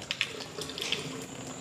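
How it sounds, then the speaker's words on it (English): Water from boiled potatoes pours and splashes into a kitchen sink as they are strained, a steady rushing gurgle with a few brief clinks, close and moderately loud. "we're just straining off the water"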